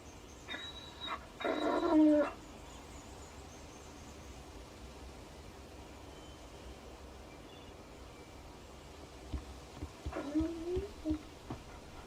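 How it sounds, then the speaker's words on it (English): A dog whimpers in the Alan Wake video game, giving a couple of short, soft whines separated by long quiet stretches over faint background hiss. "Shh, that's a good dog."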